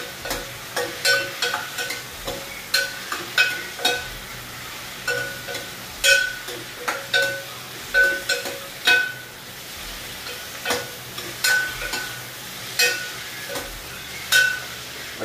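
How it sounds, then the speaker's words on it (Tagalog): Leftover lechon kawali, already cooked, sautéed in a pan. Steady oil sizzle sits under repeated rhythmic scraping and clanking of a spatula against the pan, close and fairly loud. "So, konting gisa lang kasi luto naman na yung lechong kawali."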